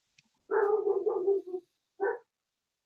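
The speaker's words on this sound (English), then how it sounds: "Oh, Ruger's barking, so I'm going to let him in real quick" A dog barks from inside a home during a crafting session: one long burst of rapid barks, then a short second bark after a pause, close by with no talk over it.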